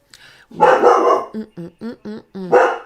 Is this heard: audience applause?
no